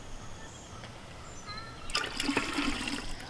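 Milk poured from a carton into a container for making ice cream, a close gurgling splash that starts partway through after faint rustling and builds steadily.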